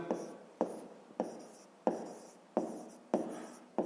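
Chalk or marker strokes on a classroom board while fractions are written for a fifth-grade maths exercise, a series of about seven sharp taps each trailing into a short scratchy stroke, close and even in rhythm.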